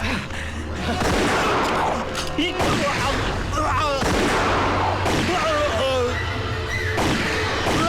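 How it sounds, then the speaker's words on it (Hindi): Sharp gunshot bursts crack repeatedly amid a loud, busy soundtrack with voices shouting, the shots coming in clusters. "ऑफिसर सलमा खान को गोली चलाने का पूरा हक है।"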